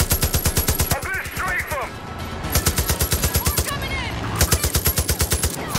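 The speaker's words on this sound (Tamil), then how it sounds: "நானே அங்கே ஃப்ளைட்ஸை சுட்டுக்கிட்டு" Rapid automatic gunfire from the Far Cry 5 video game, aimed at aircraft, rattles in fast loud bursts with brief pauses, alongside other game effects and no talk.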